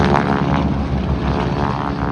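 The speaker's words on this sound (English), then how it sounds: "they're coming in a wider in trail just to do single ship flybys" A propeller airplane makes a single-ship flyby at an airshow, a loud, steady engine drone and propeller roar that fills the whole clip and stays close, with no talk over it.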